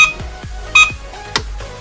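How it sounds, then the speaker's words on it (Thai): A small, cute electric car's turn signal indicator ticks out a steady, evenly spaced series of short, sharp beeps, with a couple of brighter chirps mixed in, close to the listener and with no talking. "สัญญาณแตรตัวนี้ก็จะเป็นไฟเลี้ยวซ้ายเลี้ยวขวา"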